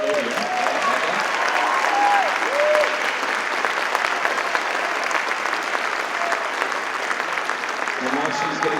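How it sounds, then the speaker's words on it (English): A high school fall band concert audience applauds a student conductor as she takes the podium. The clapping is loud and sustained for the full stretch, with scattered voices and cheers mixed in near the start. "let's give her a round of applause"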